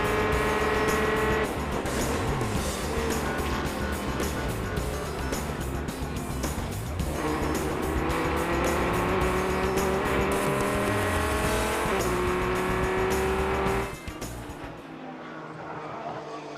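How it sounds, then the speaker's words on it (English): Audi e-tron Quattro race cars roar past at Sebring during the Twelve Hours endurance race, loud engine notes rising and falling in waves with overlapping cars and tire noise, before the sound drops off abruptly near the end. "Watch the #1 e-tron Quattro from Audi Sport with Marcel Fassler behind the wheel as he continues to lead from Sebring."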